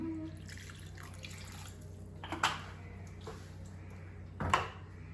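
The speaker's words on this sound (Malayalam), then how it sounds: "കുറച്ച് വെള്ളം ഒഴിക്കാം." A little water poured into a pan while cooking squid roast, a faint trickling splash in a quiet kitchen with a couple of brief clinks.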